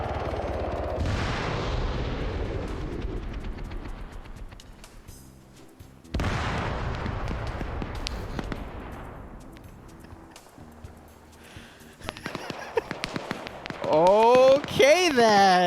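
Gunfire in a tactical shooter, an OFCRA PvP match pitting DEA and police against PMC and cartel, with two heavy booming shots echoing and decaying over several seconds, then a quick run of sharp reports and someone speaking over it.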